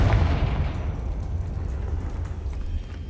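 A Confringo spell blast in Hogwarts Legacy, the fantasy wizarding game: a loud, deep boom that opens the moment and then rolls into a long rumbling, crackling decay, heard alone with no talk.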